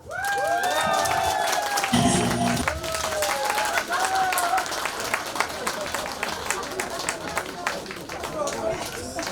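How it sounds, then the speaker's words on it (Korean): A festival crowd at the Masan chrysanthemum festival bursts into applause and cheering, loud at first with whistles and shouts, then settling into a steady dense clapping that carries on throughout. "박수 함성"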